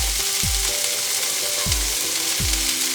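Garlic cloves sizzle steadily in a hot pan for pork fried rice, a close, continuous crackling hiss with a few low thuds and clinks in the background.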